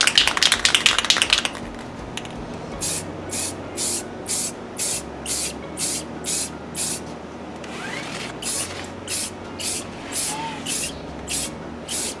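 Spray paint from an aerosol can hisses in a long series of short, regular bursts onto a ceiling speaker grill, each spurt close and sharp with quiet gaps between; a louder rustle opens the clip.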